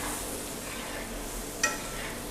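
Sliced onions wilting in a pan at a hotel kitchen, a faint steady sizzle under background hiss with one sharp metallic clink of a stirring utensil.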